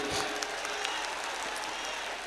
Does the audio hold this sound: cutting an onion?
no